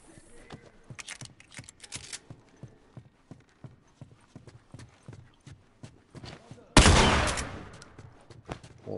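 Gunfire in The Last of Us video game: a rapid series of sharp shots under low talk, followed by a loud burst of blast noise that decays slowly.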